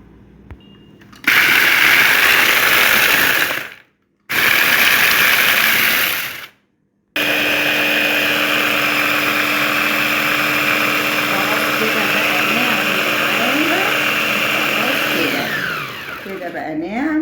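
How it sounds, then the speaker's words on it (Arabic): An electric grinder pulverises biscuits with cocoa powder, a loud, close, high whirring run in three bursts with short pauses between them, the last burst long and steady before the motor slows down. "هنفرم بقى الخليط دوت اللي هو البسكوت مع الكاكاو، وهنطحنهم كده طحنه كويسه"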